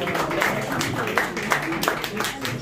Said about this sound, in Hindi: भरपूर तालियां होनी चाहिए